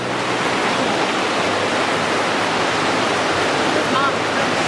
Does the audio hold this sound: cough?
no